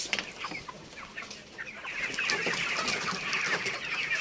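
Many chickens clucking together in a crowded poultry house, a continuous chorus of overlapping clucks and cackles close by, with occasional wing rustles.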